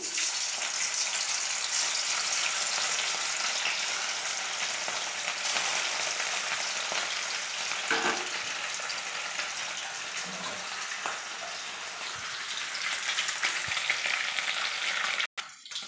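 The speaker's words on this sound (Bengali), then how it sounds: "মাছগুলোকে এক এক করে তেলে ছেড়ে দিচ্ছি।" Pieces of katla fish sizzle steadily in hot oil, a dense, close crackle that keeps going at an even level throughout with no talking.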